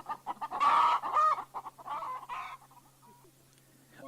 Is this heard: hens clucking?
yes